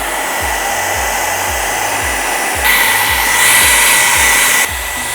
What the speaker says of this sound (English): We're gonna take our hair dryer,